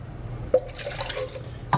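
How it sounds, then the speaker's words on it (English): Water trickles and drips into emptied cans of crushed tomato as they are rinsed for a spicy three-bean, three-meat chili, with a faint splash near the middle and another at the end, close and fairly quiet. "we're just gonna rinse our cans with a little bit of water."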